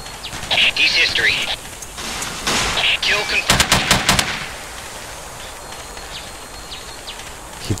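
Automatic gunfire from the military shooter Ghost Recon, with rapid bursts of loud, sharp shots clustered in the first half and a dense volley near the middle, then fading to quiet ambience.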